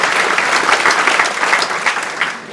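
A theatre audience at Dublin's Gaiety Theatre breaks into dense, sustained applause, a full wash of many hands that holds steady and then begins to fade.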